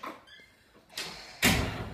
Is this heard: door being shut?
yes